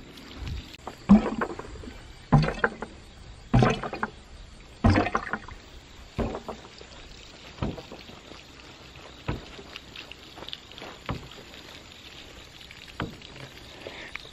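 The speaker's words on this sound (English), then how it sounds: "the noise that the drive pipe makes as it cycles." An underwater ram pump's drive pipe cycles in a small pond, giving repeated knocks that come strong and steady at first, then turn fainter and less regular, heard close with no talk.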